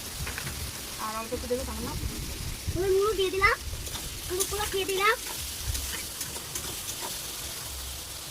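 Onions frying in hot oil in a pan, a soft steady sizzle running throughout under someone talking in Bengali.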